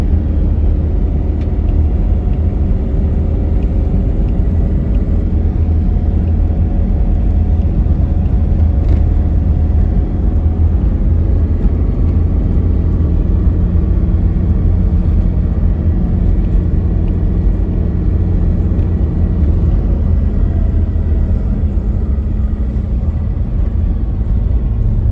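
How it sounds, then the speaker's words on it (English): A car driving along winding mountain roads between Dupax del Norte and Kasibu, Nueva Vizcaya, with a steady low engine rumble and road noise from inside, constant and unbroken for the whole stretch. "There is something special about driving through mountain roads"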